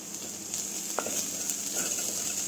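Onion, ginger and garlic sizzle steadily in a hot pan while being cooked for a salmon sauce, with a close, even crackle and a few light stirring scrapes.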